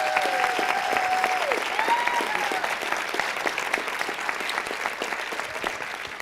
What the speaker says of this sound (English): could I ask you to please give Ramon maybe one more round of applause?